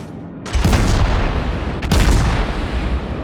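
Naval gun salvos from the cruiser Molotov in a naval warfare game: two loud, close, booming volleys a little over a second apart, each a sharp crack followed by a long rolling rumble.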